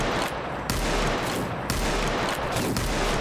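Dense, continuous gunfire from a multiplayer shooter match, loud, rapid overlapping shots with sharp bursts throughout and no pauses.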